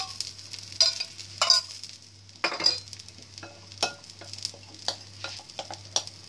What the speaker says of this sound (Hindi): इसे मैं एक और डाल देती हूँ, थोड़ा सा नीचे ऑयल डालेंगे।